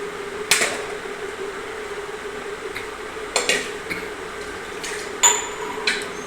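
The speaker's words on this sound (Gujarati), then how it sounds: "હવે આપણે તેમાં નાખીશું આ બાફેલી દાળ" Boiled chana dal goes into a pan of cooked chutney and is stirred with a spoon, bringing a few sharp metallic clinks and taps over a steady low simmer, close by, with no voices.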